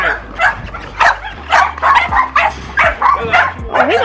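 American Pocket Bully dogs at a kennel give repeated sharp barks and yips mixed with whimpers, close and busy, while people speak faintly in the background.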